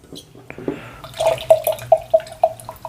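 Coffee sloshes and swirls inside a pour-over brewer, a run of soft rhythmic liquid splashes that grows a little louder toward the end.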